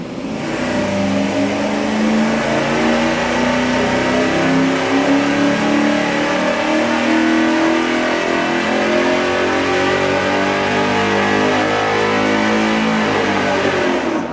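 A car engine with a single exhaust, Y-merge and straight-through muffler revs loudly and steadily up close for the whole stretch, a throaty sustained roar with no talking.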